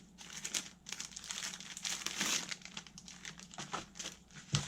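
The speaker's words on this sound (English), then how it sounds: "Sorry about the crinkling." Plastic packaging being crinkled while a fabric subscription box is opened, a steady run of close, rustling crackles at moderate loudness with no talking.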